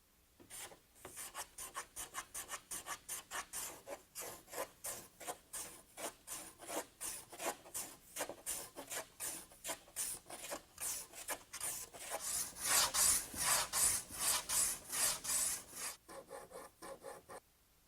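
Wood is rasped or planed by hand along the beveled edges of clamped wooden boat hull panels, a steady run of rhythmic scraping strokes, close and fairly loud, growing stronger near the end before stopping.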